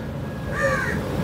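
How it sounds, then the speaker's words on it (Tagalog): A crow near a hotel room in Kuala Lumpur gives a single hoarse caw, fairly close over steady background ambience, no talking. "Yan, sa room namin ang daming uwak."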